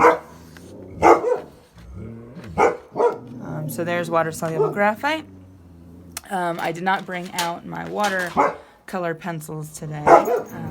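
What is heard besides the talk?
dogs barking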